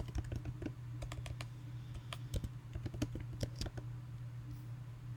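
Steady typing on a computer keyboard, a rapid run of crisp key clicks in irregular bursts over a low constant hum, close by with no talk.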